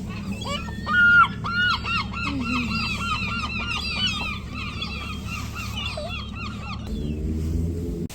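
Two gulls, an older white-grey bird and a younger brown one, give repeated calls one after another over a steady low rumble of wind or surf, with a different lower patterned sound rising near the end.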